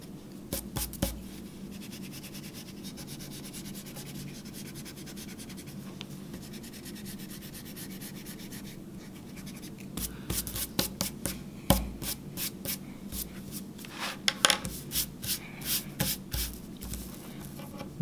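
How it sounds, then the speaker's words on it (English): Pencil marks being erased from paper with an eraser, a quiet dry scrubbing that runs steadily, then sharpens into brisk bursts of close rubbing strokes in the second half, with no talking. "I'm gonna go back and erase any pencil that I see"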